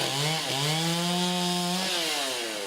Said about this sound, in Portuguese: Quem vê os funcionários da Prefeitura com a motosserra nas mãos trabalhando no corte de árvores